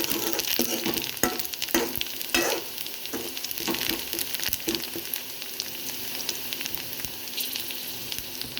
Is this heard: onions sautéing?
yes